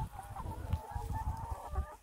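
Pasture chickens out on the grass cluck softly and repeatedly up close, with a gentle murmur of other hens in the background.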